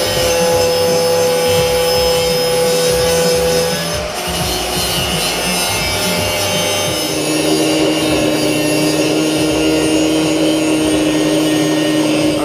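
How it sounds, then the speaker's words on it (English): Metal strut bars for a Nemesis R1 build are notched with a cutting wheel and grinder, giving a loud, continuous high-pitched whine and grinding that dips briefly, then resumes at a shifted pitch; no talking. "After a few trips back and forth from the cutting wheel and grinder, we're able to get these notched out"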